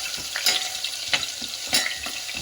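Cumin seeds and garlic fry in hot oil for tomato rice bath, a bright continuous sizzle with several crackling bursts and stirring scrapes, close and without speech.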